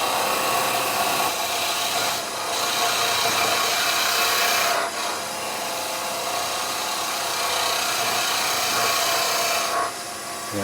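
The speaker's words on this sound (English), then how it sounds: "we'll clean that up with a skew" Wood turning on a lathe, with a skew chisel cleaning up the work: a continuous loud hiss and rasp of the cut running steadily for about ten seconds, with a few short dips, close and with no talk.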